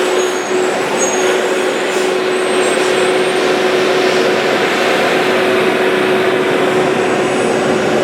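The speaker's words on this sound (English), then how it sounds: "we have more traffic up there" Steady road traffic with trucks passing, near and loud, a continuous broad roar with a constant engine hum and no talk.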